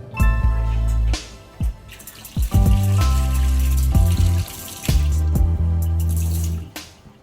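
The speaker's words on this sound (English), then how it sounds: "the first thing we're going to do is wash our hands" Kitchen tap running while hands are washed at a sink, water gushing and splashing in close, uneven spurts with no talking.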